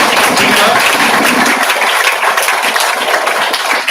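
An audience claps steadily through a felicitation ceremony at an induction-program talk on language and life, with dense, loud applause from start to finish and no voices.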